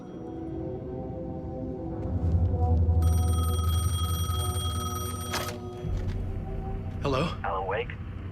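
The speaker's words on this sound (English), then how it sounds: "The payphone was ringing." A payphone rings in the video game Alan Wake 2, a bright electronic trill that starts partway in and stops, over low ambient rumble and tones, followed by a few short sounds near the end.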